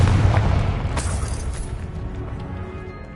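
A Confringo blasting spell explodes in Hogwarts Legacy, a loud booming blast with a deep rumbling body and crackling debris that slowly decays over a few seconds.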